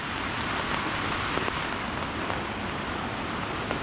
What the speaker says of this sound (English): It's proper rain.